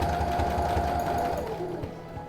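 A sewing machine stitches fabric just beside two folded hems of a cot liner, its steady, fast mechanical whir and needle chatter running close and clear before slowing slightly toward the end.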